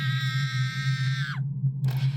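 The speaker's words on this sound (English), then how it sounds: "Nice screams." A game character screams during surgery in the indie horror game Grotesqueresque: one long, high, strained cry that bends downward and breaks off, then a shorter burst over a constant low hum.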